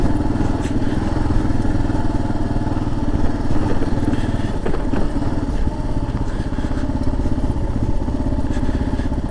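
A Kawasaki KLR650 or Yamaha TW200 motorcycle rides over choppy, bumpy ground, its engine droning loud and steady throughout with occasional clatters and thumps from the rough terrain.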